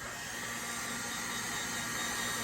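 A heat gun blows steadily at close range, drying paint on an Air Jordan 5 sneaker being restored, with a constant loud whooshing hum and no break.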